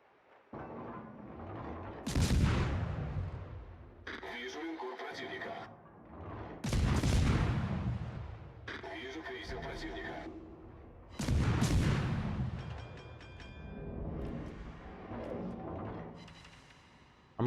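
Naval gunfire from World of Warships, several heavy booming salvos spaced a few seconds apart with rumbling tails and mechanical clatter between shots, loud and close.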